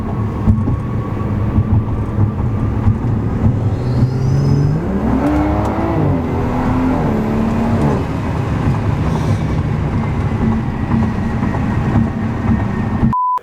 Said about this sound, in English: I don't know how well the mic is going to pick up that intake noise, but in here it just sounds insane.